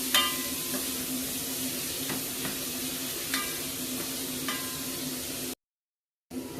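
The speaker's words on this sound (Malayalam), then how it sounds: "അതുകൊണ്ട് നമ്മൾ ഇച്ചിരി തക്കാളിയും കൂടെ ഇടുകയാണ്." Onion and tomato sizzle in a pan for a Kerala-style fish mappas, with a steady frying hiss and a few soft scraping stirs, then a brief silence.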